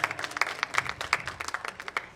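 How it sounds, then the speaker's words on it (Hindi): Audience at a mushaira poetry gathering in Lohiya Kala Bhawan, Siddharth Nagar, clapping in a brisk, dense burst of applause that carries on throughout. "एक बार जोरदार तालियां हमारे भाई।"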